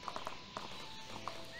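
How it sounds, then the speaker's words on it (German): A horse ridden in a video game, with quick rhythmic hoofbeats clopping close by against a faint ambient background. "Ey, wir reiten hier mit Pferd."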